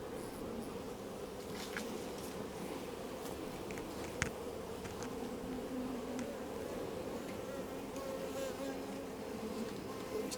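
Honey bees buzz steadily at a beehive in an apiary, a continuous dense hum of many insects lasting throughout at moderate level, with no voices over it.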